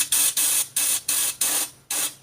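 Compressed air at 80 psi spraying rust-proofing liquid film under a 2010 Suburban 2500, six loud close hissing bursts of about a quarter second each with short gaps between, no talk.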